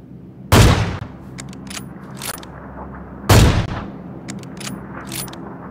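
Two single sniper shots from the AWM rifle in PUBG, each a loud, sharp crack with a booming tail, spaced about three seconds apart, with faint clicks and clatter between them.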